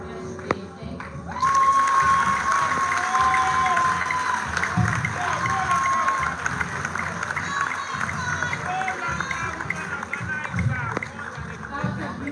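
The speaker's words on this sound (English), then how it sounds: "A resounding applause for her one more time." An audience on a university campus in Ghana bursts into applause and cheering after a speech, a sudden, loud swell of clapping and shouts that keeps going steadily, with a voice talking over it.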